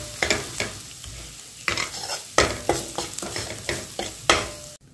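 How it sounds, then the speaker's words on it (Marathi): Masala frying in hot oil, stirred in a series of distinct scraping strokes over a soft sizzle, close and fairly quiet, with brief pauses between strokes. "एकच सेकंड मसाला भाजून द्यायचा, असं तेला वास छान येते बघा।"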